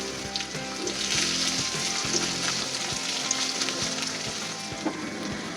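Dried chillies, garlic and onion frying in hot oil, a steady close sizzle and crackle with faint stirring knocks and no voices.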